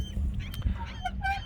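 Birds honk on a lakeside home property. Several distinct goose-like calls sound at moderate distance over a low outdoor background, some single and some in quick pairs.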